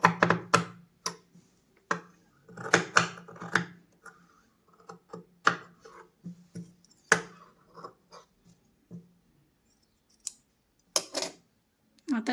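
Scissors snip through leftover dress fabric being cut for a handbag, a series of short, sharp cuts in bursts with pauses, close and fairly quiet.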